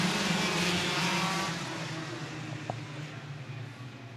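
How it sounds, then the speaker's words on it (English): Racing kart engines on the starting grid at a United States Pro Kart Series heat, with a loud blended drone of motors that fades somewhat after the first seconds and a brief blip near the end. "Still have a kart on the grid trying to get started."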